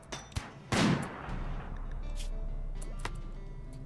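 Sniper gunfire in the video game RimWorld: one sharp, loud shot cracks out near the start, with a fainter report just before it and a few softer distant pops afterward over a steady background rumble.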